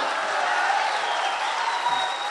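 An audience applauding at a mushaira, Urdu poetry recital, a steady dense wash of clapping with a few voices calling out over it, sustained throughout.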